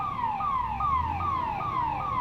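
A fire engine siren wails in steady repeating downward sweeps, about five cycles, moderately loud and unbroken, arriving at a fire at a wooden house in Nana Peth, Pune.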